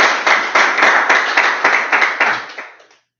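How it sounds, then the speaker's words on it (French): An audience gives a short burst of clapping after a business presentation, with rhythmic, fairly close hand claps that taper off and stop within about three seconds. "On peut vous applaudir."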